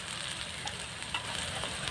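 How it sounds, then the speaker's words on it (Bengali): Ginger-garlic paste frying in hot oil for a Bengali-style kosha country chicken curry, giving a steady soft sizzle with faint crackles throughout, no talking. "তেলে ভেজে নিচ্ছে"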